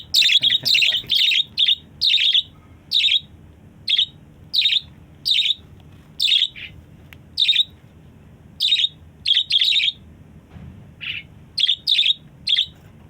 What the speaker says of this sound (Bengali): অনেক সুন্দর সুন্দর পাখি আমরা পালন করে থাকি